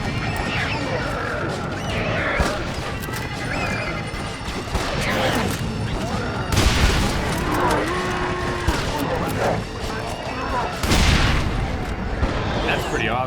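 Explosive rifle shots in the Red Dead Redemption: Undead Nightmare video game, a few heavy booming blasts spaced seconds apart over a busy rumbling background of crashes and commotion, close and loud.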